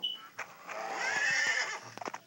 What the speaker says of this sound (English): The horse is running on his own.